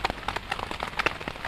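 Heavy rain drumming on a camping tent, dense irregular patter of drops hitting the fabric close overhead, steady and loud with no voices.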